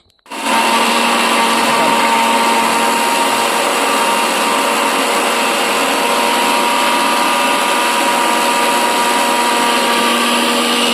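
Mixer grinder grinding pigeon pea pods into a coarse paste, a loud steady motor whir with a high whine that starts abruptly and runs without pause, no talking over it.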